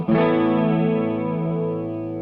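A Jackson Audio New Wave analog chorus pedal ramps its effect in on a sustained, ringing chord, the shimmering, slightly distorted tone swelling quickly and then holding and slowly decaying, loud and alone without talk.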